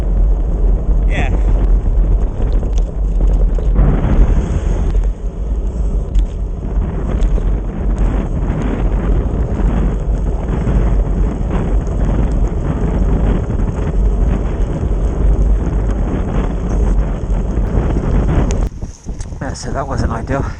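Steady wind buffeting a microphone on a cold, wet, 1 °C day during a fixed-gear bicycle ride, a constant rushing roar that holds throughout and dips briefly near the end.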